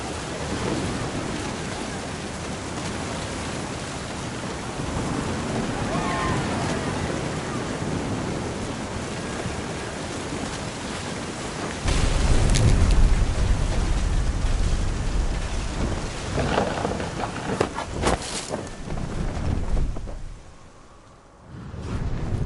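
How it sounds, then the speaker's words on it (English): Steady heavy rain hisses throughout a thunderstorm, and a deep rumble of close thunder rolls in partway through before the downpour briefly eases near the end. "Thunder sounded much too close and full of angry power."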